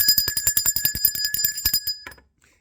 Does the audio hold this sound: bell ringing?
yes